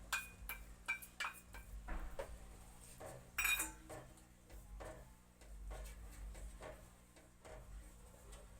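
A spoon clinks and taps against a pan while curd is stirred into fish curry gravy, with scattered metallic knocks and scrapes over a quiet, low background hum.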